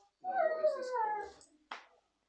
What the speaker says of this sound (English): Come here, baby dog.